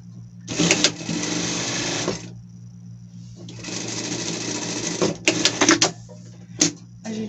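A domestic sewing machine stitches fabric for a pet outfit in bursts: a long run, a pause, another long run, then several short stitching bursts close by, with a steady low hum underneath and no talking.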